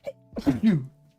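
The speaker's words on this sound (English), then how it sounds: "You're just sneezing." A short, sharp sneeze lasting about a second, close and fairly quiet, with a small intake of breath before the burst.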